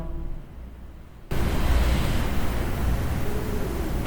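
Sea waves heard near the ocean, a sudden swell of broad, steady wash and hiss that stays loud and continuous after a quieter start.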